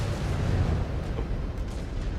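Missiles strike in a battle in MechWarrior 5: Clans, producing a loud, sustained low rumble and explosive roar that fills the whole moment without talk.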